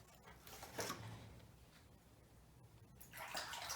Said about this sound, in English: Oops, gotta clean my brush really good.